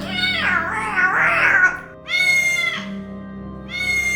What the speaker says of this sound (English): they were the screams of Gummy, our cat.